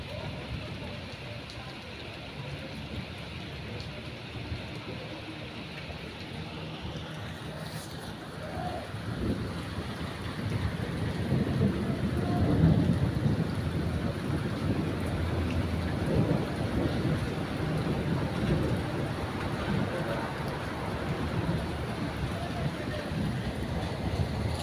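Steady rain hisses under a low, rumbling roll of thunder that swells midway and lingers, with wind noise throughout.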